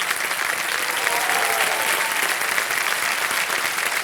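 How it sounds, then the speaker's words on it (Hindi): A studio audience on the KBC game show applauds steadily and loudly, with dense continuous clapping filling the whole stretch. "तालियां बजाएं इनके लिए"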